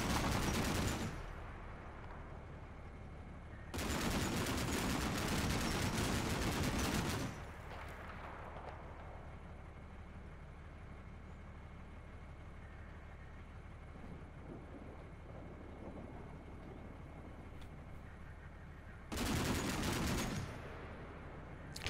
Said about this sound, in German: Das zweite Fahrzeug schießt ebenfalls.